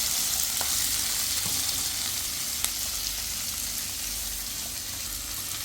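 Onion pieces frying in a pan for a paneer matar masala, a steady, soft broadband sizzle with a few faint clicks, continuous and even throughout with no voices.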